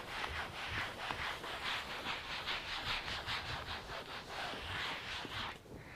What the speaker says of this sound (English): take another clean microfiber cloth and buff that out